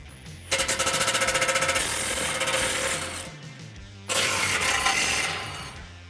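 Impact wrench loosening the 15mm tow hook bolts on a 2018-2019 Ford F150, a loud rapid hammering burst from about half a second that runs on as a steady whir, cuts out near four seconds, then picks up again.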